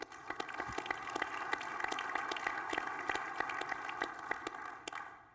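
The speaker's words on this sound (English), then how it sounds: "Let's have a warm round of applause for Stan Dubyn." Applause from a conference audience welcoming a former space shuttle extravehicular activity trainer, steady dense clapping that fades out at the end.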